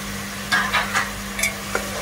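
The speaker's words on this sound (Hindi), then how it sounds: "अब इसे में डाल देते हैं 2 मीडियम साइज के टोमेटो को मैंने कट कर लिया था," Chopped medium tomatoes tipped into a pan of frying mutton for Kashmiri rogan josh, giving a few short bursts of sizzling and stirring over a steady low hum, with no voices.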